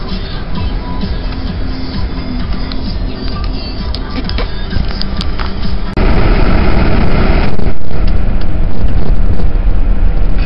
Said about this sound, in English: Just warming the car up for a second.